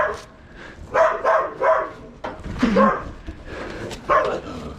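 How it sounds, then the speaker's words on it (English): A puppy barks and yips repeatedly in short bursts, with people talking faintly underneath and some background noise. "Puppy don't look friendly."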